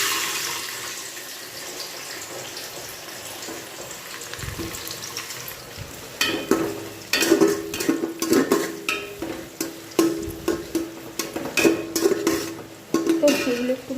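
Whole garam masala with chopped cashews and raisins sizzle in a pan, a steady hiss joined partway through by repeated clinks and scrapes of a stirring spoon against the metal.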